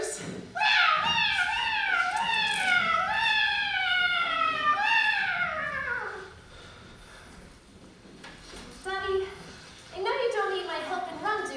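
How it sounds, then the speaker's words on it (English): A cat sound effect in a high school stage production aboard a ship: a long series of rising and falling meows and wails, loud and close, then a pause and a few shorter cries near the end, with no talk. "A cat! The ship's cat!"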